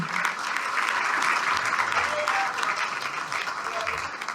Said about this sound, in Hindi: एक बार जोरदार ताली आप बजाएं राखी जी के लिए